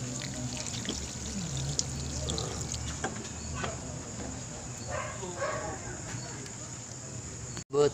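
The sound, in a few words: pouring a little water into pan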